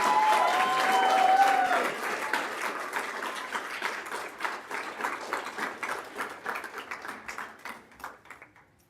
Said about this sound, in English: let's clap in celebration of Kathy Komselman